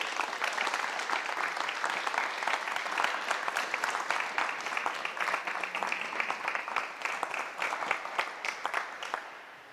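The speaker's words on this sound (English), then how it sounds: "Can I have one big round of applause for our newest members?" Applause for new members at a Key Club induction ceremony, a dense, sustained round of clapping from a room full of people that holds steady for several seconds before easing off.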